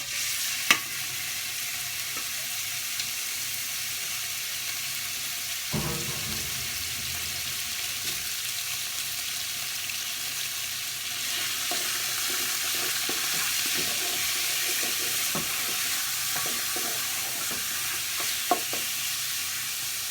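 Meat for Peruvian lomo saltado dropped into hot oil over high heat, giving a steady loud sizzle that continues under occasional stirring clicks and scrapes.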